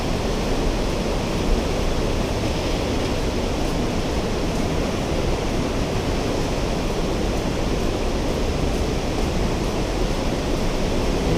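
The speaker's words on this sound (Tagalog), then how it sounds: "Grabe yung tubig ngayon ah." River swollen and fast after rain, a dense, steady broadband rush of water heard close and continuous with no voices over it.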